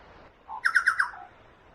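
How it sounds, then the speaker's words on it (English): A bird on a hiking trail gives a quick run of four bright, squawky calls with a soft note before and a fading trail after, fairly close over quiet outdoor background. "can you hear that bird?"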